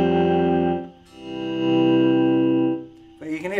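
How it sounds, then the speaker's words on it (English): Electric guitar notes swell in gently from silence, sustaining clean and dry, with a brief swelling chord near the end; no attack is heard at note onsets. "I use the volume pedal a lot without any effects on. It's just really nice to get this kind of swell."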